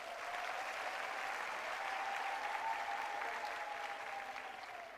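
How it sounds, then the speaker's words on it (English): An audience at a Gqeberha campus autumn graduation ceremony applauds the choir, a dense, steady wash of many hands clapping that holds for several seconds and starts to fade at the end. "Can you please give them another round of applause?"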